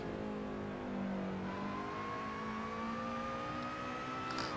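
Racing car engine in the PC racing game Assetto Corsa, a fairly quiet, steady engine drone with one long gradual rise in pitch, heard alone.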